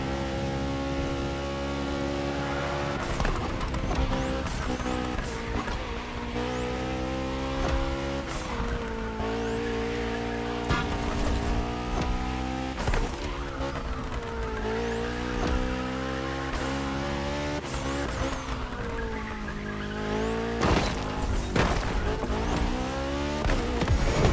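Porsche 919 Street hypercar driven hard in The Crew Motorfest racing game: a loud, continuous engine roar with rising and falling revs through repeated gear changes, tire squeal and skidding through corners, with no talking.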